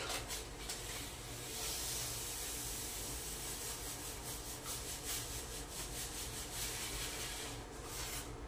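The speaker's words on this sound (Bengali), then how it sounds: "আর এই যে ডালিয়াটা এখানে কমে গেছে, তা এই প্যাকেট থেকে এটার মধ্যে ঢেলে রাখি" Dalia (broken wheat) pours from a packet into a container as a loud, steady rushing hiss, close by and continuous for several seconds.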